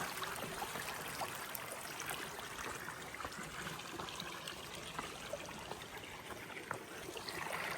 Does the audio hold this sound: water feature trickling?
yes